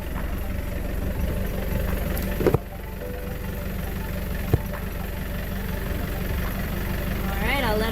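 A Yanmar 4JH4E marine diesel engine on a boat runs steadily just after starting, a continuous low idling drone with a couple of brief knocks and clatter nearby.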